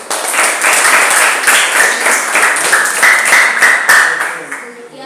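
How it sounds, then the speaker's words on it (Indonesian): Classmates applaud a group presentation in a classroom with loud, steady clapping from a small gathering that lasts several seconds before tapering off. "Oke, kita berikan tepuk tangan."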